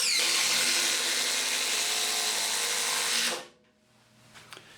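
A DeWalt DCF887 18V brushless impact driver sends an external wood screw into wood with a loud, continuous buzzing drive of about three seconds, then cuts off abruptly into near quiet.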